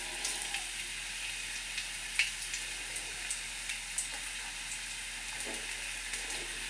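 Garlic sizzling in hot oil for a Mangalorean-style crab sukka, a soft, even crackle with light scattered pops throughout, fairly quiet, no talking.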